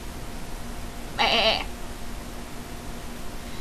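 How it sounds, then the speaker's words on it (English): A single short goat bleat, loud and close, rises over a quiet steady background hum, then fades into near silence with no talk. "A goat."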